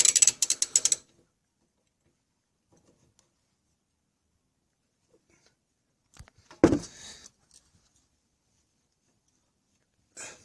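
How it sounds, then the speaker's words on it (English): A 15 mm wrench turns a rear brake bolt on a 2009 Dodge Journey SXT 3.5 liter, giving a rapid ratchet clicking burst at the start, then near silence before clunking metal handling and a short later clatter. "you take a 15 millimeter wrench and you can get it on right there behind it"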